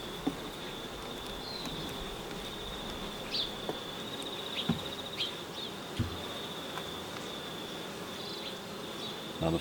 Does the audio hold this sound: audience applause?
no